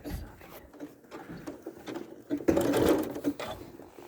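Sewing machine stitching slowly along a fabric edge while piecing a quilt sampler block, a steady mechanical whir with soft needle patter that grows louder and busier toward the end, heard up close.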